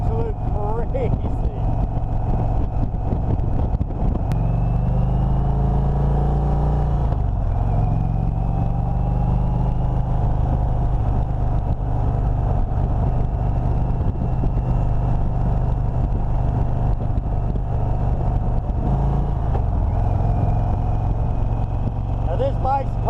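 A stock Indian motorcycle engine at a test ride event, revving steadily with a deep low rumble, throttle twists swelling the pitch around mid-clip and again near the end; talk runs over it throughout.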